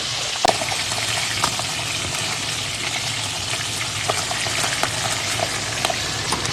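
Chopped garlic with a pinch of sugar sizzles steadily in a hot pan, a continuous crackling fry with faint spatters and small clicks, close and alone with no voices.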